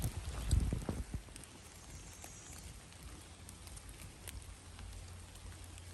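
Rain patters steadily on a humid, hazy forest trail during a thru hike, a soft continuous hiss of drops after a brief burst of nearby rustling and footsteps at the start.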